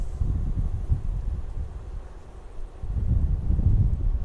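Steady wind buffets the microphone in low rumbling gusts, swelling louder toward the end, with no voices.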